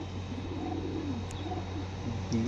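Adult caught pigeons in a fancier's loft give low rolling coos, several overlapping at a moderate distance over a steady background hum, with no talk.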